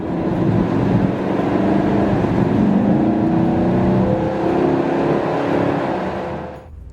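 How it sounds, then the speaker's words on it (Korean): A Chevrolet Camaro SS muscle car emits a deep, baritone exhaust note while driving on a public road, a loud, steady rumble that holds close and strong for several seconds before cutting off abruptly. "뒤쪽에서 밀려오는 배기음 상당히 압권입니다"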